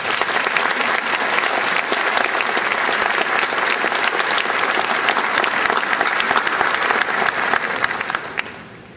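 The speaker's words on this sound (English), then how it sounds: "Let's give them a round of applause." A commencement audience claps warmly, a thick, steady round of applause filling the hall before tapering off in the last second.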